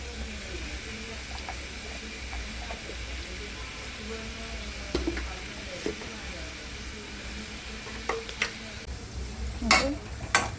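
Fried onion sizzles softly in a pan for chicken masala while a utensil scrapes and clinks against the metal now and then, growing busier toward the end, with a voice talking over parts of it.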